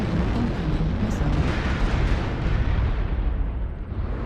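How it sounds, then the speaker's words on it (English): Continuous rumbling explosions from incoming missile impacts in the mech combat game MechWarrior Online, a dense, loud barrage of booms and crackling blasts with no pause throughout. "Warning, incoming missile."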